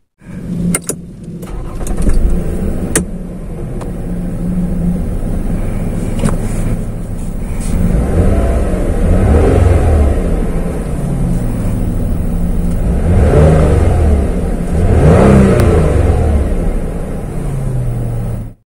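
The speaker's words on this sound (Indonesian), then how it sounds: "kita akan dengarkan suara mesin V6-nya ini gimana ya, dan kita juga akan nge-rev alias ngegas suara mesin ini" A 2008 Toyota Camry 3.5 V6 engine idles, then revs up in several rising surges, each swelling and falling back, heard close with a steady mechanical rumble throughout.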